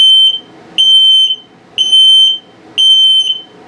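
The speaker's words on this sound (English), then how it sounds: "So when it beeps slow like that, it's telling you your battery's low." Four loud, high-pitched low-battery chirps from a carbon monoxide detector in a 2023 Sunset Trail 272BH travel trailer, spaced about a second apart, each ringing briefly against a quiet background.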